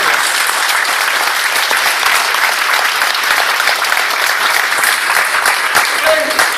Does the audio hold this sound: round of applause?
yes